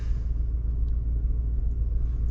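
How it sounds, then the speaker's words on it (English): A deep, steady V8 engine rumble from inside a moving 2025 Chevy Tahoe, low and continuous without pauses. "Gotta love the V8 sound."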